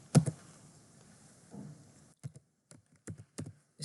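A computer keyboard being typed on nearby, opening with one sharp loud keystroke, then a pause and a sparse series of light individual key taps in an uneven rhythm, with no voices.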